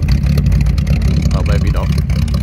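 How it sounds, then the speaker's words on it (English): A 1941 Chevrolet Special Deluxe engine burbles loudly and steadily at idle from the rear, with someone talking over it. "A real lovely burble"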